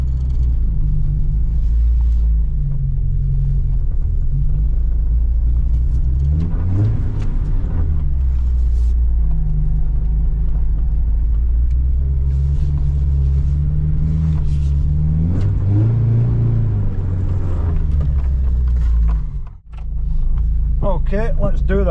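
Vauxhall Nova engine running on a short test drive, a loud steady low rumble with gear-change swells in pitch, heard from inside the car.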